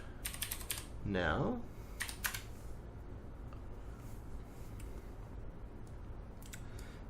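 A password is typed on a computer keyboard in a few short bursts of quiet clicking keystrokes, close by. A person speaks briefly over a low background hiss.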